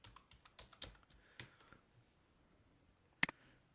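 Typing on a computer keyboard: a quick run of soft clicking keystrokes close by, then a pause, then one sharper key tap near the end, in a quiet room.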